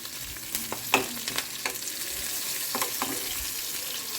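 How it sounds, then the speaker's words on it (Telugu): Onions and green chillies fry in a pan with a steady close sizzle, punctuated by several sharp spoon scrapes and taps as they are stirred; no voices. "ఉల్లిగడ్డ పచ్చిమిర్చి ఫ్రై చేస్తున్నాం"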